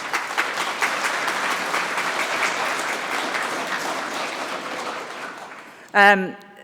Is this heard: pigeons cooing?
no